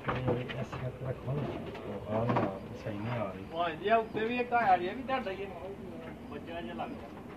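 Pigeons coo in low repeated bursts on a Pakistani rooftop loft, close by, with a voice talking over and between the calls.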